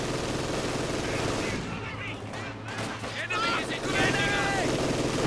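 Gunfire and explosions from a World War II strategy video game fill the scene, including a rifle grenade going off near a German machine-gun team, with scattered shots and blasts under a steady battle rumble while a commentator talks over it.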